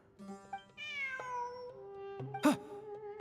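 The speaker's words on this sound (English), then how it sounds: "Look! A cat!" A cat meows repeatedly in Genshin Impact. There are several drawn-out, rising and falling meows over soft game music, and a louder, sharper meow comes near the end. No one talks.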